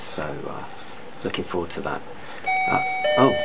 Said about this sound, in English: That's the doorbell. That must be her.